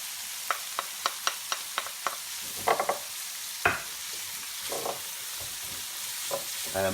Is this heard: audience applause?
no